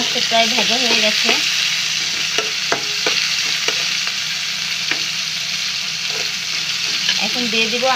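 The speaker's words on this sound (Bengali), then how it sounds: "চিংড়ি মাছটা প্রায় ভাজা হয়ে গেছে" Close sizzling of prawns coated in turmeric and salt frying in oil, with a steady crackle under frequent clinking, scraping stirs of a utensil against the pan.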